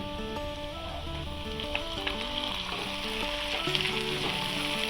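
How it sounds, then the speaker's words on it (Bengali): Onions and chopped tomato frying in a pan for a fish egg masala, giving a continuous close sizzle with light stirring clicks, while faint music plays underneath. "পেঁয়াজগুলোকে ভালো করে ভেজে নিতে হবে। এরপর টমেটো কুচি,"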